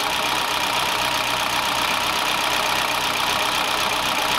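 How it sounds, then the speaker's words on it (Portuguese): A Peugeot 208 car engine idles with a shaky, uneven running note, a steady close hum with a faint rhythmic wobble and no voices over it. "O motor tá bem estável, balança bastante, ó."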